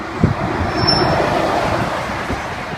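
A rail repair truck rolls steadily along the tracks in a switcher yard in Amsterdam, pushing loads of gravel ahead, with a continuous rumble, faint wheel squeal, and occasional clicks, heard fairly close.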